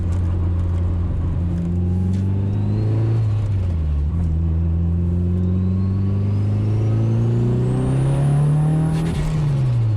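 Mitsubishi EVO 8 GSR with a turbocharged engine pulling hard through the gears, loud and close, a steady rising drone broken by quick shift dips and a high turbo whistle climbing near the end.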